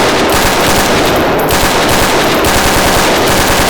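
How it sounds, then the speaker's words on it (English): Loud, dense automatic gunfire fills a Roblox match, with rapid continuous bursts that run without pause from start to finish. "we're getting shot at"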